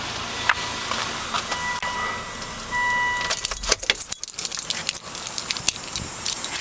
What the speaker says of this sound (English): Here, I'll just turn off the car.